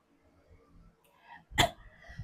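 A single sharp cough bursts out after faint low murmuring, close and abrupt, followed by quiet.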